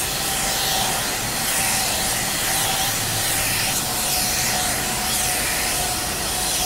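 A spray gun hisses steadily and loudly throughout while painting a Honda Civic Type R during a body repair, a continuous broadband rush of air and atomized paint with no talking.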